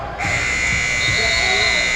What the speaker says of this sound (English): And that buzzer will signify the end of the quarter.